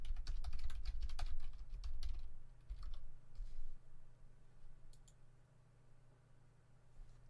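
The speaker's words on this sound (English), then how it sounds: "Sorry, excuse the typing." Rapid clicks of a computer keyboard fill the first few seconds close to the mic, then thin to occasional taps against quiet room hum.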